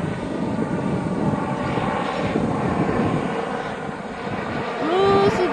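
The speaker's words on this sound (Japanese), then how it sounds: "ヘリコプター来た" A helicopter passes overhead at a seaside park on Tokyo Bay, its engine and rotor noise forming a loud, steady roar that holds throughout and swells slightly toward the end.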